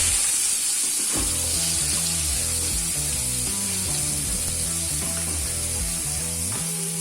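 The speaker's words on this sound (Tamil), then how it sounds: "வெங்காயத்தை சேர்த்து நல்லா வதக்கணும்." Chopped onions frying in hot oil in a pan for a Madurai-style mutton dum biryani, giving a steady close sizzle and hiss with soft stirring scrapes throughout and no talk.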